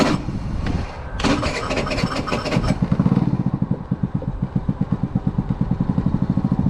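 A Maddog 50cc scooter engine cranks and catches with a loud buzzing start, then settles into a close, steady, slightly uneven idle with a pulsing putter.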